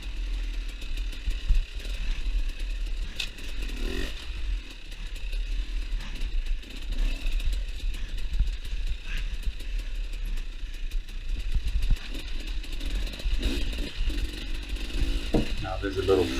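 Dirt bike engines revving and droning continuously on a motocross track during a morning ride, a loud steady roar that swells with throttle on a fast section, with people talking over it.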